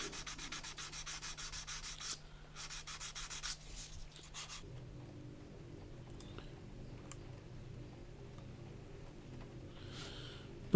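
Steady abrasive rubbing of sanding a 1/32 scale Zoukei Mura Bf109G-14 model kit part, gritty and continuous, with brief pauses in the first few seconds before a softer, lower scraping takes over.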